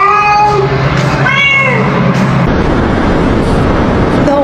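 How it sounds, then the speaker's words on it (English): A stray cat meows loudly two or three times in the first couple of seconds, with rising and falling cries over steady traffic-like background noise. "there's a weird fucking stray cat"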